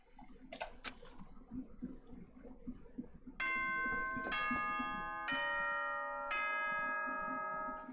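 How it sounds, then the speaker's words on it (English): A Danganronpa school announcement chime from the video game rings out as a sequence of four bright, bell-like tones, each held and layered over the last, following a few soft ticking clicks. "Ding dong, bing bong."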